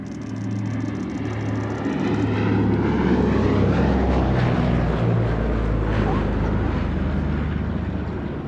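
An OA-10A aircraft in US Army Air Forces markings, named Miss Pickup, runs its engines at an air show, giving a loud, steady drone throughout with a voice talking over it.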